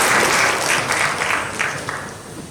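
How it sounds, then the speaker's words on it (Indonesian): A short round of audience applause at the opening of a specialist medical education program at Tadulako University, steady clapping from a crowd that eases off toward the end. "Kita berikan tepuk tangan."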